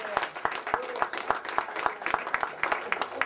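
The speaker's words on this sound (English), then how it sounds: "That's Brother Johnny, can you give him a round of applause?" Moderate audience applause with distinct individual claps in an uneven rhythm, a small crowd clapping nearby at a talk.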